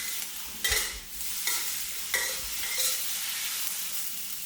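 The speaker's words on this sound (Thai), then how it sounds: "ผัดสักครู่ก่อนนะครับ ให้หอมหัวใหญ่เริ่มโดนความร้อนจนเริ่มสุกก่อนนะครับ" Steady sizzling of onions stir-frying in a hot pan, punctuated by a few scraping stir strokes as the onions are tossed about, close and continuous.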